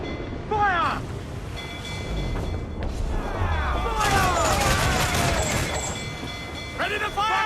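Ship cannon gunfire volleys in the video game Assassin's Creed IV Black Flag: loud, dense rolling bursts and booms with whistling, sweeping tones over a busy naval-battle din.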